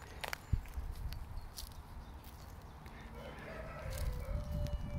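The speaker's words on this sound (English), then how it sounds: "Look at these lovely chickens." Chickens on a rural property, with a rooster crowing and some clucking against a low outdoor background with scuffing footsteps, fairly faint and distant.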